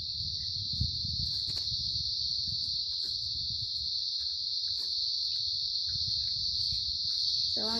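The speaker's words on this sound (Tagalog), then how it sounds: "So ang ingay pa yung mga gangis dito. Ay ano yung kuliglig." A steady, continuous high cricket trill runs throughout, loud and unbroken, over faint low background rumble and scattered soft noises, in a snow pea garden.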